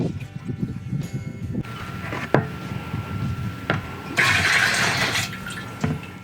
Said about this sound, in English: maybe I'll rinse it out a little bit